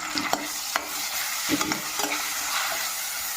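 Onions sautéing in a pan with green chillies and curry leaves, stirred with a spoon that scrapes and clicks against the pan several times over a steady soft sizzle.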